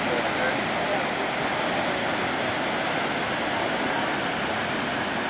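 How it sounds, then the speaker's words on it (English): Steady roaring rush of Rainbow Falls in Hawaii, loud and continuous with no breaks, filling the whole moment. "Pretty waterfall."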